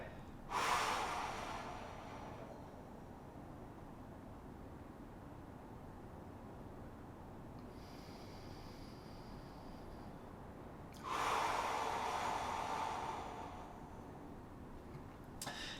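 Slow, deep breaths during a guided breathing exercise, with two strong airy exhales about ten seconds apart and quiet stretches in between. The sound is close and there is no talking.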